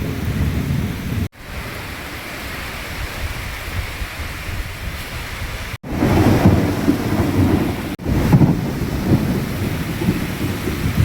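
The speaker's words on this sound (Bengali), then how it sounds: "আকাশের অবস্থা দেখো, আওয়াজ দিচ্ছে দেখো।" Thunder rolls in deep, loud, sustained rumbles over a downpour of heavy rain drumming on open ground, the roar swelling several times between brief dropouts, with no voices.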